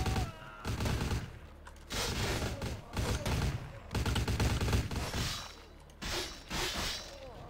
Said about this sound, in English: I'm not appreciating all the bullets that are hitting me right now